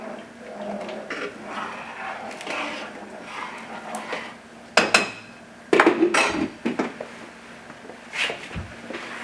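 A spoon stirring a pot of red beans from the bottom, giving close metallic scrapes and clanks against the pot, with a few sharp loud knocks midway between quieter, uneven stirring sounds.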